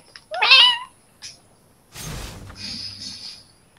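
A person imitates a cat with a rising, drawn-out meow, followed by a short second cry and a breathy, raspy vocal sound, close and clear with no other talk.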